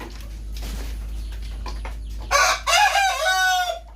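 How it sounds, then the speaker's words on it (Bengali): A large multicoloured hill rooster crows loudly in a drawn-out call near the end, after a stretch of low background hum and faint noise. "এই পাশে মাল্টি কালারের পাহাড়ি জুটি মোরগ, বিশাল বড় সাইজের মোরগ"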